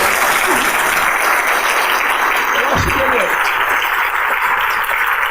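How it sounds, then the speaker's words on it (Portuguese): A crowd claps steadily and loudly throughout, a dense sustained round of applause with a brief louder burst near the middle. "Eu peço a salva de palmas para Marcos Pontes."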